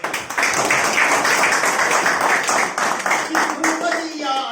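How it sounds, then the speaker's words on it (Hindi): Loud, sustained applause from an audience at a Hindi poetry recital in a reading hall, dense clapping filling the whole stretch without a break. "जोरदार तालियों के साथ"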